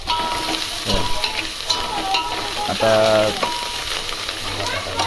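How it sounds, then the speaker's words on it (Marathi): Garlic cloves and fresh coriander fry in hot oil, a constant close sizzle with spatula scrapes and stirring knocks, plus a brief tonal metallic ring midway. "5-6 लसणाच्या कुड्या टाकून घेणार आहे. त्याला थोडंसं परतून घेणार आहे."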